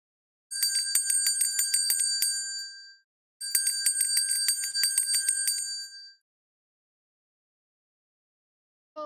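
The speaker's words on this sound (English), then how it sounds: "It was a sound of a bell ringing, a simple sound of bell." A simple bell rings in two bursts of rapid repeated bright strikes, each lasting close to three seconds with a short pause between, clear and fairly loud against silence.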